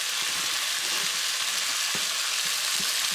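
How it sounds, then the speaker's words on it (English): Garlic and onions sizzle steadily in a big pot for jambalaya, a loud continuous frying hiss with faint spoon scrapes and taps mixed in. "we're fixing to put the garlic in there"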